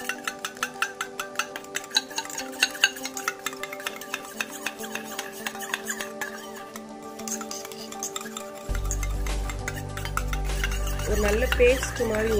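Homemade natural lip balm ingredients with a vitamin E capsule are stirred into a paste in a small container, with rapid rhythmic ticking and clinking of a utensil up close. A low steady hum comes in near the end.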